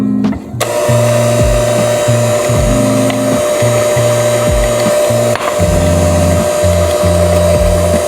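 An electric mixer runs on low through blueberry muffin batter as dry ingredients go in, giving a loud, steady motor whine broken by repeated rhythmic scraping and knocking of the beaters against the bowl.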